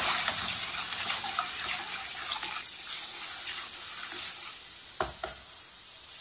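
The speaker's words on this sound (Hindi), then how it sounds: "मसालों को 1 मिनट के लिए पका लेते हैं।" Spices sizzling in a hot pan on the stove, a steady crackling fry with a couple of sharp clinks near the end.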